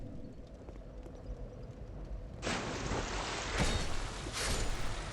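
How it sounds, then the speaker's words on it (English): Footsteps splash loudly through water in the video game Dark Souls 2, several bright sloshing bursts that begin midway and repeat in an irregular stride over a low ambient hum, close and prominent. "The loud splashing is still very funny."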